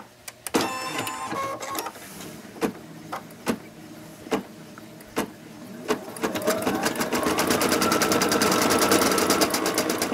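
An embroidery machine begins stitching the first color on a tote bag: a few spaced clunks and taps, then a steady, close, rapid mechanical stitching rattle that builds and continues loudly.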